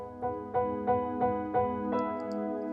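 Keyboard right-hand pattern from the bridge of the worship song Mountain, a series of about six evenly spaced sustained chord stabs played alone, clean and close, ringing into each other.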